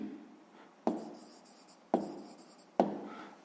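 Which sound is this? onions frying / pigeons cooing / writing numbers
writing numbers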